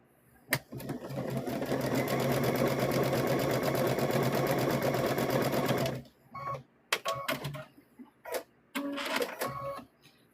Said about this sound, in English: So let's go ahead and stitch these across.